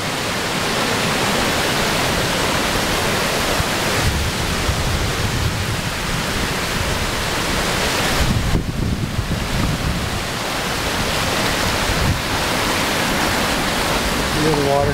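Water from a stream pours over a falls on the Maliseet Trail near Woodstock, New Brunswick, making a steady, loud, broadband rush that continues without break, with brief handling bumps and a faint voice.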